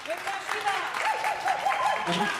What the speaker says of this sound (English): Let's give them a round of applause for trying.